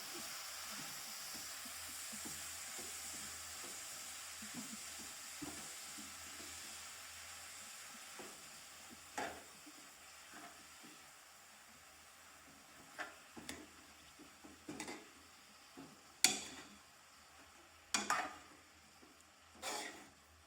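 Carrot halwa is stirred in a pan, a quiet background sizzle broken by scattered scrapes and clinks that grow more frequent toward the end.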